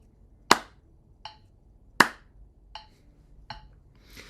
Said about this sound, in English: So clap through this 3 times